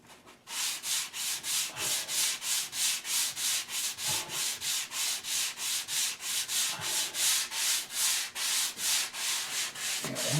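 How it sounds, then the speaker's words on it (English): Hand sanding during a kitchen remodel, a steady rhythmic rasp of back-and-forth strokes, about three per second, close and loud, continuing alone for ten seconds without talk. "I'm almost done sanding here."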